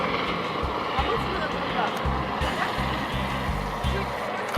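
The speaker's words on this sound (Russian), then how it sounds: "После отправления этого вертолета пришло время ужина" A helicopter carrying ministers departs, its rotor giving a steady rhythmic thumping at a moderate distance, with a person talking over it throughout.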